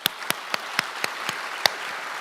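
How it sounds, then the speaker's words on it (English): Audience applause rises at a memorial teach-in, a soft bed of many hands with a handful of distinct loud claps close by at a steady pace. "Can we give a round of applause for the first session?"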